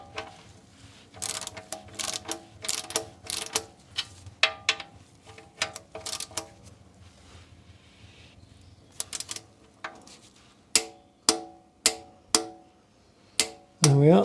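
Ratchet wrench tightening the oil drain plug on a Jaguar XK (X150) V8, a series of sharp close clicks in bursts, then spaced single clicks near the end, with faint background noise and no talk.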